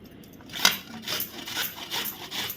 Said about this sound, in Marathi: असे मी सगळे आवळे आता किसून घेते